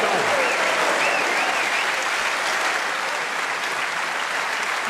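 A packed snooker crowd at the World Snooker Championship semi-final applauds a trick shot, with loud, dense, sustained clapping that fills the whole stretch, and faint voices under it.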